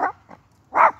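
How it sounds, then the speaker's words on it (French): A small rustic dog barks twice, short and close, with a faint yip between the barks and no voices. "Vous voyez, ça, c'est un chien rustique,"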